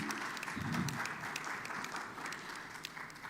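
Warm, sustained applause from a conference audience at a Ghanaian money summit, many hands clapping together in a steady crowd roar, moderately loud and continuous throughout, with a low murmur under it early on.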